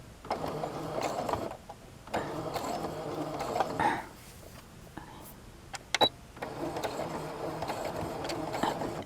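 A sewing machine stitching miniature pants runs in short whirring bursts, starting and stopping several times with a quiet mechanical hum. Soft talk sits between the runs.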